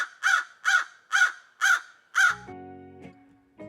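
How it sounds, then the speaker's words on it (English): A crow cawing five times in an evenly spaced series of loud, harsh calls, followed by a brief different sound at the end. "They make cawing sounds."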